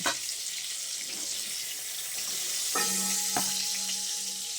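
Pieces of pointed gourd (potol) fry in oil with a steady, loud sizzling hiss, joined later by a few light clinks, with no talking.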